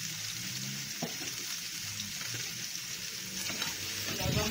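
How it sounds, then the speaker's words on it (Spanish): Seasoned boiled potatoes get stirred in a pan over a steady sizzle, with soft scraping and occasional knocks of the utensil against the pan, close and fairly quiet. "Las vamos a revolver para que se le impregne todos los ingredientes"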